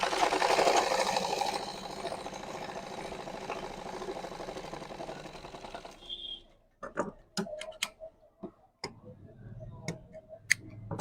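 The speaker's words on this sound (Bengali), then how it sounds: "এখন এই যে এখান থেকে সেলাই, চাপ সেলাই" A sewing machine top-stitches a pair of trousers, running in a fast, steady buzz for about six seconds before stopping, then sharp taps and handling clicks.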